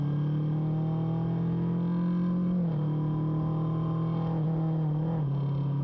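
A Kawasaki Vulcan S motorcycle being ridden, its engine droning steadily at close range, with brief dips in pitch as the throttle shifts.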